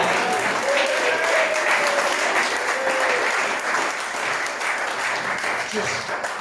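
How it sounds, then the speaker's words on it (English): A gathered group gives a loud, sustained round of applause, thick steady clapping that fills the space throughout, with a few voices faintly calling out beneath it. "Just another round of applause."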